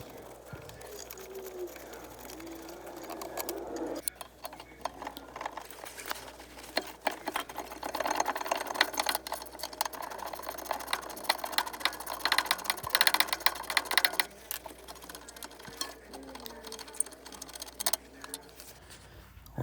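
Rear caliper bracket bolts being loosened and removed on a Volkswagen Passat, heard as a rapid, buzzing ratchet wrench with intermittent metallic clicks, fairly close, with someone talking at times.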